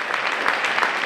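A hall full of family members applauds young child performers, brisk crowded clapping that carries on evenly for the moment.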